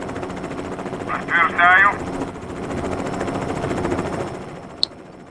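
A Mi-8 helicopter in a video game flies with a steady rotor and engine drone, joined by a brief mechanical burst and a sharp click near the end.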